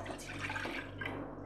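Water poured into a cooking pan to make cardamom chai, a faint, brief, steady splashing trickle with no talk.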